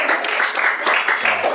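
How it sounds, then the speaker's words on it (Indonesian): Schoolchildren in a classroom applauding together, brisk close clapping from many hands that stays fairly loud for the whole moment. "Kalau gitu tepuk tangan dong buat kita semua."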